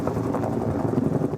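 A logging helicopter works over a Flagstaff forest where marked trees are being removed, its rotor giving a loud, steady, throbbing drone that fills the whole stretch without any voices.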